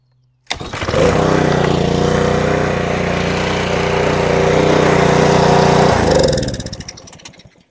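A Honda GCV160 small engine on a lawn mower, just fitted with a replacement carburetor, starts up and runs steadily and loud for about five seconds before cutting off and winding down.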